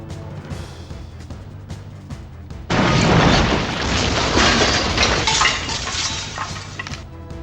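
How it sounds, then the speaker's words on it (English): A heavy safe crashing down in a video game, a sudden loud smashing impact with crunching, glassy debris that rings and rattles for several seconds after a quieter stretch of game noise. "They'll notice the sound of a safe crashing down"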